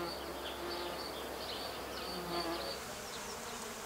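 Insects buzzing around flowering cauliflower and broccoli plants while pollinating them, a soft, steady drone with wingbeat whines drifting nearer and farther, faint and continuous outdoors.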